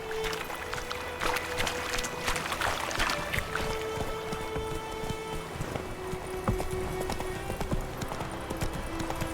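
Hooves of Roach, Geralt's horse in The Witcher 3: Wild Hunt, clip-clopping in a steady walking rhythm, close and clear over faint ambient game background.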